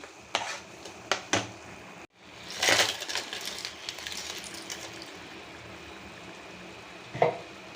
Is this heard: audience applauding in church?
no